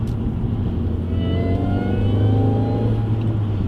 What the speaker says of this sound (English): I really wanted to enhance the sound of the supercharger